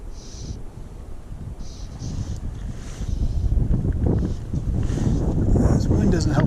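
Steady wind gusts buffeting the microphone beside a local trout creek, a broad low rumble that swells louder partway through and stays loud, with no talking.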